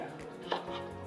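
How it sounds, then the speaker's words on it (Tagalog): A single sharp knife chop through ripe papaya on a cutting board, one brief close thud midway through an otherwise quiet stretch. "Let's chop this. Ripe papaya."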